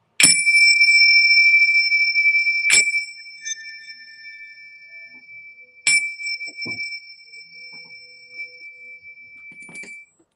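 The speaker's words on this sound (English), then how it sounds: "I'm going to ring my bells, too." Small bells are rung in three separate strikes, each a bright, sharp ding with a long shimmering ring that decays slowly, the first two close together and the third after a pause, with faint sounds between.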